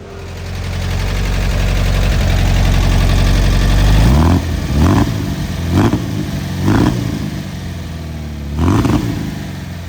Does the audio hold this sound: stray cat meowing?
no